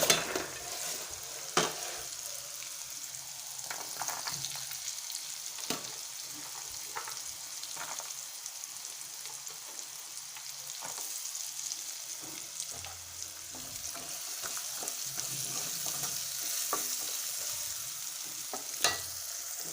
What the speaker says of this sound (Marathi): सर्वात आधी मी यात वटाणा घालणार आहे